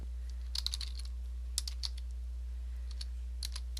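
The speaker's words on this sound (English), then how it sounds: "So I am going to type in an example email address here." Keys clack on a computer keyboard while an example email address is typed into a Constant Contact account, with short bursts of crisp clicks separated by pauses, close and clear over a quiet room hum.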